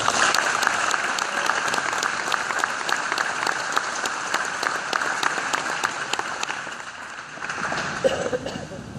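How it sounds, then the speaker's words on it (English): A crowd at a high school football banquet applauds steadily, a dense patter of clapping that holds for several seconds before thinning out, with some voices underneath. "I'd like to give all these people a round of applause"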